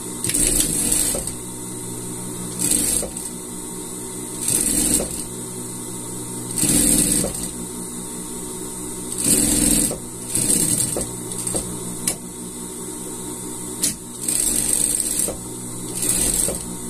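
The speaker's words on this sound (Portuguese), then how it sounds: "vamos virar para espontar e passar uma costura de segurança aqui" Sewing machine stitching a safety seam on a gaucho-style pet outfit, running in short mechanical whirring bursts of about a second each, separated by quiet pauses, close and clear with no talking.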